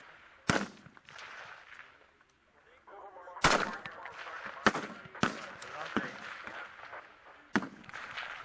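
Rifles fire on a Marine Corps recruit firing range, with sharp individual shots cracking out at irregular intervals, some close and loud, others more distant, under a faint background of voices.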